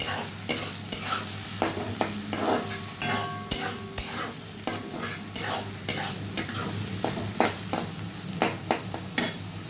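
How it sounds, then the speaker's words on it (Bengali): Finely chopped onions sizzle steadily in a frying pan while a utensil stirs them in repeated rhythmic scrapes and clicks, close and moderately loud, with no talking. "এই দেখো পেঁয়াজগুলোকে নাড়বো একটু"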